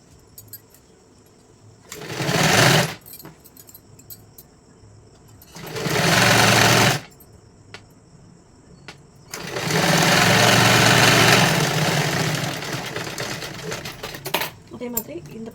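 Sewing machine stitching a size 44 katori blouse in three bursts, two short runs and a longer one, each a loud rapid mechanical whirr separated by quieter gaps.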